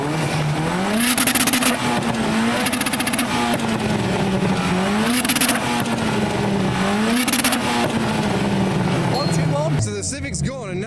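A Ford Mark VII ST fitted with a screamer pipe revs hard and loud, rising and falling in repeated bursts with sharp, raspy highs, while people speak beneath it.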